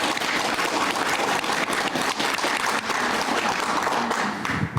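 Sustained audience applause at the opening ceremony of a regional art forum exhibition, a thick, even roar of many hands clapping that fills the room from start to finish.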